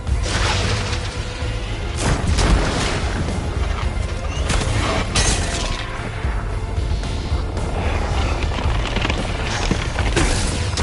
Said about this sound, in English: Thunderbolt missiles away.